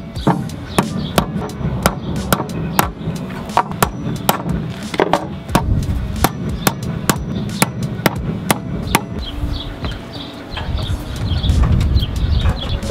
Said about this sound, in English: nail this down right here, as opposed to trying to nail this in while you're up there